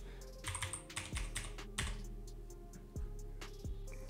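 Fingers type a hex colour code on a computer keyboard, a quick irregular run of close, crisp key clicks with a few heavier taps, alone over a low steady hum.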